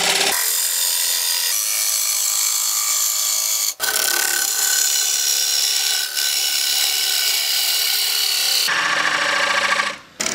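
A one-inch skew chisel cuts an Australian hardwood platter spinning on a lathe, giving a loud, close, continuous scraping hiss with a few brief breaks as the tool lifts.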